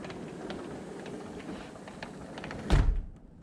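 Sliding glass door pulled shut, its low rumbling slide ending in a single solid thump as it stops, fairly close in a quiet room.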